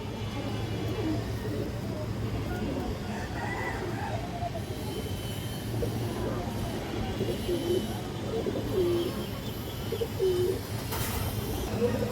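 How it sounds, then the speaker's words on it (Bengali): A khaki female pigeon coos in soft, intermittent calls over a steady low rumble of background noise, with a faint voice now and then. "খুবই ভালো একটা মাদি কবুতর, খাকি মাদি"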